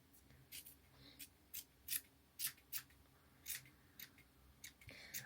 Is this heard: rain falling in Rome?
no